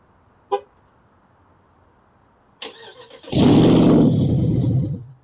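A short click, then a 2024 Ram 1500 pickup truck engine remote starts, cranking and roaring to life, settling into a loud, rumbling idle close by.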